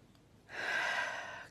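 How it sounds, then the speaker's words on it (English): One deep breath during a guided meditation, a single soft airy exhale that swells and then fades, close and quiet with no talking. "So just take a couple of breaths on that idea"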